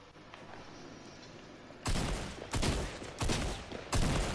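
Gunfire in the Fortnite video game, season 11 on PS4 Pro, with a shotgun being fired at a tree: quiet game ambience, then four loud, close, sharp shot bursts at roughly even intervals, with no talking.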